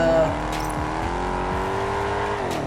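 A car in the racing game Test Drive Unlimited Solar Crown skids under the handbrake, its engine holding a steady drone while tyres squeal and scrub, loud and continuous.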